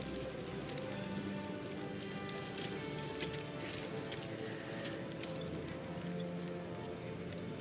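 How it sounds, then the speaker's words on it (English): A four-horse driving team trots at an international driving championship, its hooves giving a steady clip-clop with faint mechanical rattling over a constant crowd-and-wind bed at a distance. "these 4 horses working in absolute harmony and unity"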